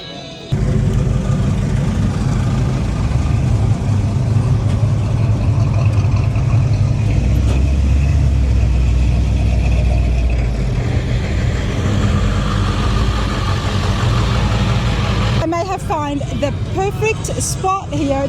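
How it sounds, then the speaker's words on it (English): Ford F100 trucks idle and roll in at an outdoor F100 truck show at the LeConte Center in Pigeon Forge, Tennessee, with a steady, loud engine rumble throughout and voices talking over it. "There is Ashley doing an absolutely phenomenal job getting these trucks in"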